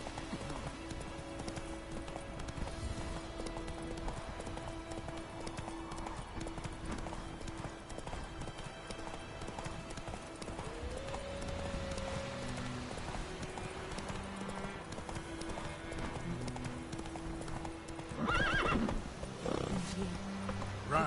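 Roach, the horse in the video game The Witcher 3: Wild Hunt, gallops with steady rhythmic hoofbeats under game music, and a sharp neigh comes near the end; someone talks over it.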